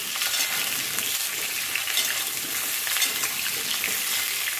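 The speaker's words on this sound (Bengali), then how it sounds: "আলুটা একটু লালচে লালচে করে ভেজে নেব।" Potato pieces frying in hot oil in a pan for a mutton curry, a steady dense sizzle up close with light stirring scrapes and no talking.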